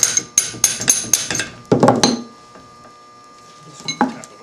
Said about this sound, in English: Tap that out. Then drive the pin out of your cam yoke pin.